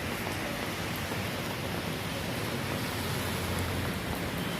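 Heavy rain pours down in Bangalore, a dense, steady hiss of drops on surfaces, loud and unbroken with no voices.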